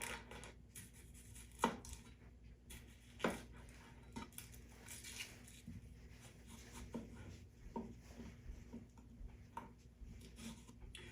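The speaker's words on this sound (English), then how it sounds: "let's go ahead and cut up all the rest of the vegetables" A knife taps through vegetables on a cutting board in quiet home kitchen prep, the soft irregular chops spaced about a second apart under faint room noise.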